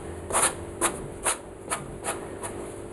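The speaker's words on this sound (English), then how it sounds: "So let's mix the paints." Acrylic paints being mixed for an acrylic pour: a series of six short scraping, stirring strokes at an even rhythm, each a bit softer than the last, close up with no voices.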